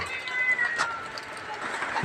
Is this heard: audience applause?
no